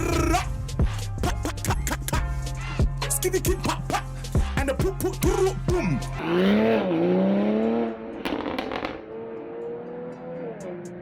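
A tuned Toyota GR Supra running E50 flex fuel revs hard through rising and falling gear changes, with sharp exhaust pops and crackles, then a long whining tone as it settles.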